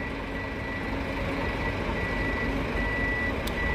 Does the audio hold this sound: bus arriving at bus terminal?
yes